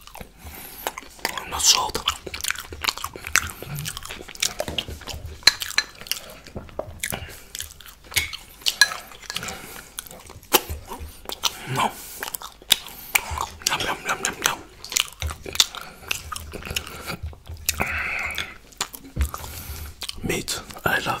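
Close, wet chewing and biting of guacamole made with fresh garlic, eaten alongside barbecue ribs and potatoes, with steady mouth sounds and small crunches throughout, interrupted by soft whispered speech.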